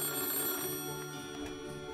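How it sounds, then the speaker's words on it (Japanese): A telephone rings with a steady, bright trill in the Black Santa horror video game, close and clear over a faint background. "あ、電話かかってきたね。"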